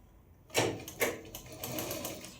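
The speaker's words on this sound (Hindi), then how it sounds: "अंदर के मार्जिन को साथ में सिलते हुए इस पट्टी पे सिलाई लगाएंगे।" A sewing machine runs in short bursts, stitching a neckline strip on a kaftan with the inner seam margin caught in; quick start-stop whirring with a couple of sharper onsets, close and fairly quiet, no talk.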